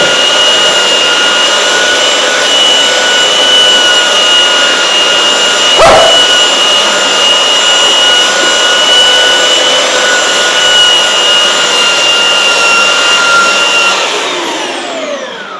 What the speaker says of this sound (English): So now what I'm gonna do is sand this off